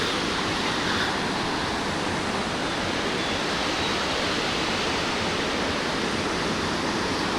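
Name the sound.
waterfall water rushing in Old Manali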